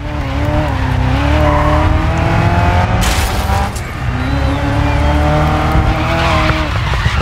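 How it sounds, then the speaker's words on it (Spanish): A Ford GT40 race car in the video game Grid Legends roars at high revs with loud, close tire squeals and skidding, and a brief harsh burst partway through, with no talking. "este Ford GT40 es un poco eh, inestable"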